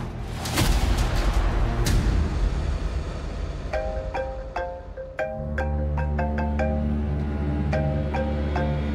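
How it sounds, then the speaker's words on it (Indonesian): A phone rings with a repeating melodic ringtone, clear and fairly close, after a louder burst of noise at the start. "Satria, itu Fani telepon aku."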